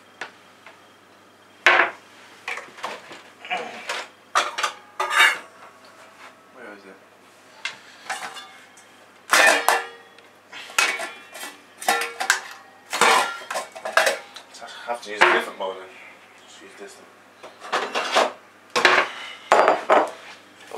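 A bowl is pulled out from among dishes in a kitchen, with scattered clinks, knocks and clatters of crockery and cupboard sounds, some loud and close, and a person talking at intervals.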